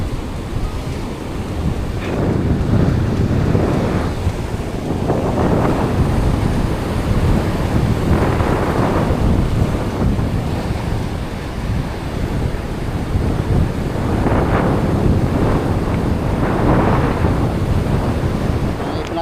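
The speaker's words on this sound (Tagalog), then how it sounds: "Grabe ang lakas ng dagat ngayon dito." Powerful sea waves crash and roar continuously on the shore, loud and close, with gusty wind buffeting the microphone.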